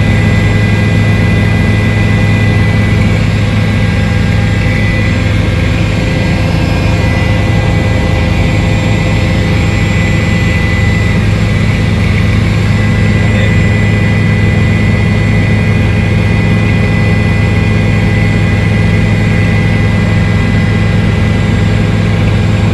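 A helicopter engine drones loud and steady for over twenty seconds, a constant heavy whine and rumble with no pauses, carrying a groom and his bride at a wedding in Panipat.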